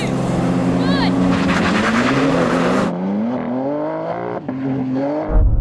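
BMW M cars accelerate hard in a drag race, engines roaring loud and close as they climb through rising revs with gear changes, while excited voices talk over the noise.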